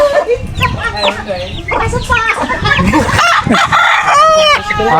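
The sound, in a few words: rooster crowing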